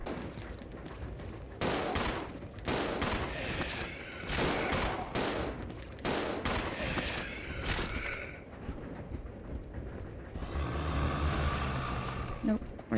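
Repeated gunfire bursts ring out in the survival horror game Resident Evil Zero, loud, close shots in quick clusters, followed by a rushing, wave-like ambient wash.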